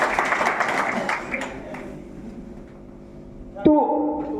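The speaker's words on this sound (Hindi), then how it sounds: "एक बार इन लोगों के लिए एक बार तालियां होनी चाहिए दोस्तों" Brief clapping from an audience at an LIC agent training conference in Varanasi, fading quickly under the room's ambience, followed by a sharp thump and a ringing tone near the end.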